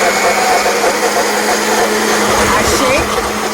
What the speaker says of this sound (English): I'm going to hit the blend button.